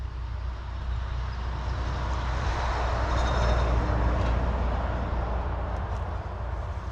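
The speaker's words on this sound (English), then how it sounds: "Sorry for the road noise" Distant roadway traffic from nearby construction makes a steady low rumble and hiss that swells slightly as vehicles pass, heard outdoors at a beehive with no voices.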